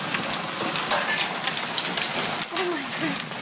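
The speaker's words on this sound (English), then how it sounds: "Do you hear this? That's hail." Hail and heavy rain pound down during a big thunderstorm, a steady dense patter with sharper individual hits, fairly loud and close, and a voice briefly in the background.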